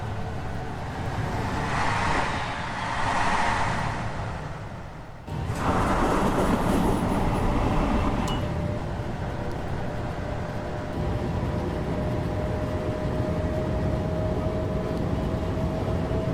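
A BB22200 electric locomotive with TVM signalling running on a high-speed line in a train simulator game, a steady loud rumble and whine of traction sustained throughout, with a shift in tone partway through.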